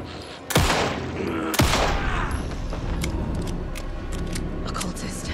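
Gunfire in the video game Alan Wake 2: two loud, sharp shots about a second apart, followed by a lingering rumbling tail and scattered small clicks.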